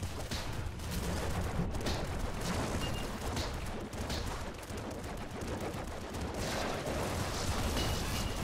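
Weapons fire in the video game Nuclear Throne, a dense, continuous barrage of rapid shots and bursts with explosive crackle, loud and sustained throughout with no talk.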